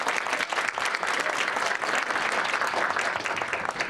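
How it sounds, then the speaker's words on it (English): A panel audience claps in a dense, even burst of applause that holds steady for a few seconds with no voices over it. "So let's give them a big round of applause."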